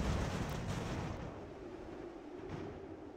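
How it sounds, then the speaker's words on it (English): Cannon fire loaded with canister shot in the strategy game Ultimate General: American Revolution, heard as a dense, rumbling roar of battle with booming blasts, fairly faint and continuous, fading slightly after the first second. "That cannon is firing grape,"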